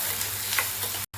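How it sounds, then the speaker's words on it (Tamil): Onions sauté in a pan with fennel and spices, a short burst of steady close sizzling and stirring with a sudden brief cutout near the end and no voices. "இப்போ வெங்காயம் கொட்டிக்கலாம். வெங்காயம் கொட்டி வச்சு வதக்கிக்கலாம்."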